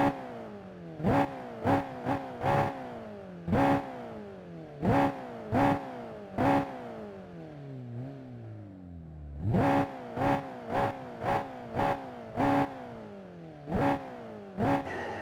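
McLaren 765LT engine in Assetto Corsa revving hard through a run of rapid upshifts, each gear sweeping upward and cut by a sharp shift pop, then a brief lull before another quick burst of shifts.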